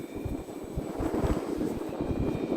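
An Arrows Husky Ultimate RC airplane flies overhead on a calm evening, its steady electric motor hum droning continuously with gusty wind rumble on the microphone.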